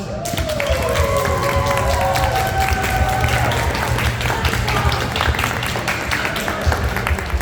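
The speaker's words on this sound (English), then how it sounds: "If you love continuous cycle solenoids, can I please get a round of applause?" Audience applause at a furry convention panel in Texas, steady continuous clapping from a room full of people with a few whoops rising over it, sustained across the whole stretch.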